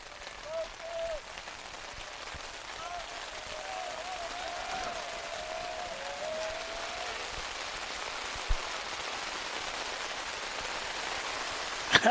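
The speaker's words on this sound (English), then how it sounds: "The amount of rain coming down. Sure, you could hear it on our microphones." Heavy rain pouring down during a high school baseball game, a continuous broad hiss of rain on surfaces picked up by the broadcast microphones, with a faint tone drifting underneath and no talk.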